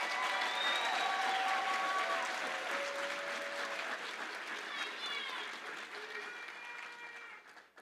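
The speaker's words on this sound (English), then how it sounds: "Let us give a round of applause for the class of 2025." Graduation audience at the Reginald F. Lewis High School class of 2025 ceremony breaks into loud, sustained applause mixed with whistles and cheers, slowly thinning toward the end.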